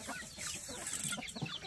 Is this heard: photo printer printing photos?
no